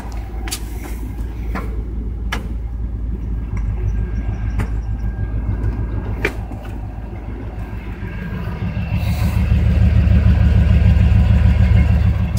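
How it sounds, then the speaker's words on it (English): A 1989 GMC truck idles with its drive shaft spinning while the wheels get no power from a failed rear end, giving a steady mechanical rumble with occasional sharp clanks. The rumble grows louder toward the end. "You can see drive shaft is spinning, but got nothing on the tires."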